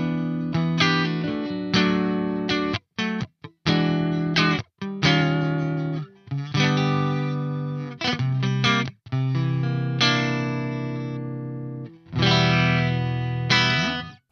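An electric guitar through a Soldano SLO-100X amp with the bass pushed plays loud strummed chords and riffs in short bursts separated by abrupt stops, heard alone with no talking.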